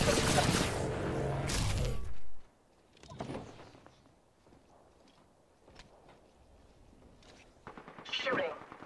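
Gunfire in the battle-royale video game Apex Legends rings out, opening with a loud sustained burst and then giving way to scattered quieter shots and clatter, with a voice speaking briefly.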